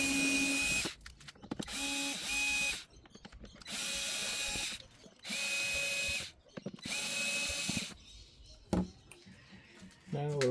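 A power drill backs out the screws on the rear cover of a Casio AP 28 digital piano. It whines loudly in four separate bursts of about a second each, with clattering handling between them.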